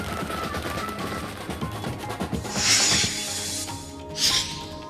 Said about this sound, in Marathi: दादर शिवसेना भवनासमोर फटाके फोडून आतिषबाजी केली